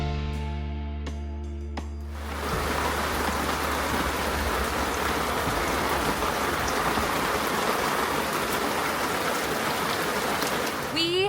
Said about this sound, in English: We have been getting so much rain. This is the most rain we've ever had.